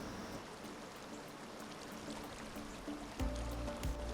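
Babbling brook in the SnowRunner video game, Michigan map, a faint steady trickling wash of flowing water with a low thump near the end.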